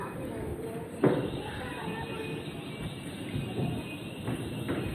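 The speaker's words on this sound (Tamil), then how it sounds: "heading home after a long day மெட்ரோவில்" A metro train in Almaty rumbles steadily along with a low, continuous roar and a couple of sharp knocks, heard from inside the carriage as a voice speaks over it.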